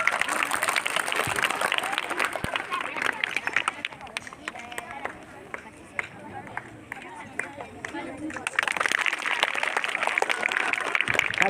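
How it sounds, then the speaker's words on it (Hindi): Audience at a school event in Uttarakhand claps in a dense, sustained wash of applause, loudest at the start and end and dipping through the middle, with crowd murmur mixed in. "बताइए, ताली बजाइए।"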